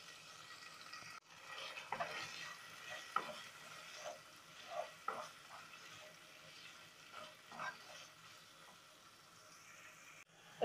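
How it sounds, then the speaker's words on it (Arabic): Sliced onion sizzling in a pot already used for cooking chicken livers and gizzards, a steady quiet fry with occasional stirring scrapes and small pops, no voices. "هقلي البصلة لحد ما لونها يحمر"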